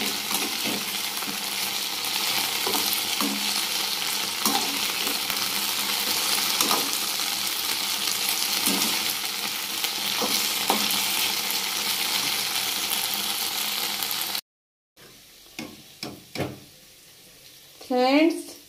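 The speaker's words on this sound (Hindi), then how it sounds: "भिंडी को थोड़ा सा मैंने फ्राई कर दिया है।" Okra (bhindi) fries in a pan with a continuous crackling sizzle and occasional clinks of stirring, then after a brief gap a few scraping knocks of the utensil.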